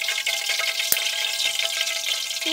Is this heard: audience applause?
no